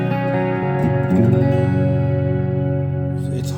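Sustained ambient stereo guitar tones from a Vola Oz guitar run through inexpensive DSP effects and a $100 Focusrite interface, steady layered notes with a long reverb wash and a shift in chord partway through, loud and without talk.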